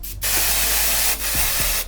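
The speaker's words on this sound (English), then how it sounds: "I'm going to spray some lace tint on her." Lace tint sprayed from an aerosol can onto a wig, two sustained close hissing bursts separated by a brief pause, with a soft handling sound and no talking.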